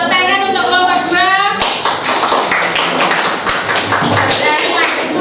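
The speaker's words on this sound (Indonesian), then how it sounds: "Tepuk tangan untuk kelompok 2." Classroom of students claps for a presenting group, a burst of many hands starting abruptly after a moment of voices and continuing briskly, close and loud.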